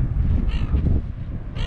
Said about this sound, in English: Got loving seagulls